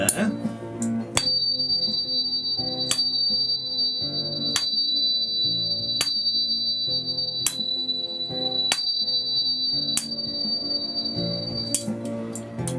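A tuning fork rings a pure, high D tone steadily throughout, while sharp taps strike at regular intervals over a low background hum.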